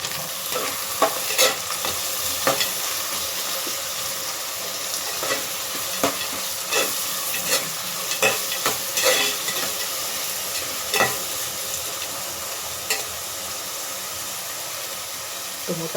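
Tomatoes for vangi bath fry in a pan with a loud, steady sizzle, while a spoon scrapes and stirs in irregular bursts and no one speaks.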